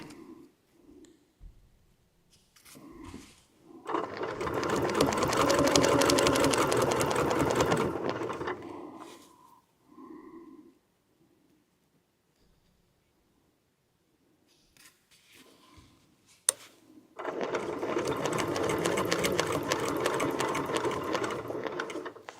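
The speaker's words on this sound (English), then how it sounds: "I'll finish up this corner, and my stitching should come right to this point where the other two blocks meet." A sewing machine stitches a quilt block in two long steady runs of rapid mechanical whirring, close and clear, separated by quiet pauses and small handling sounds.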